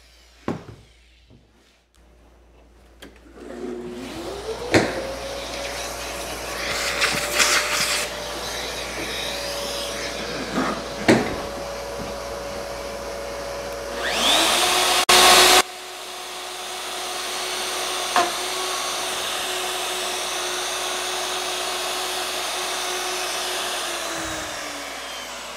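A vacuum in a woodworking shop, used while mortising with a router, spins up and runs as a steady motor whine. Brief louder scraping bursts cut in partway through before it settles back to a constant drone.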